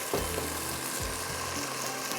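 Potatoes and chicken fry on high heat in a pan, a dense, steady sizzle heard close with a few low knocks of stirring and no voices.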